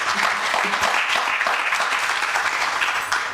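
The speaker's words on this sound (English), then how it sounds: "What a better round of applause for Wilfred in those remarks." Loud, sustained applause from an audience, dense and continuous, tapering slightly at the end.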